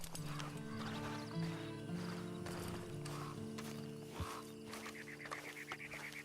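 A horse whinnies amid clopping hooves and other animal calls, a busy outdoor farmyard scene at moderate distance.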